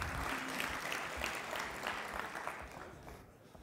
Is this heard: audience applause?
yes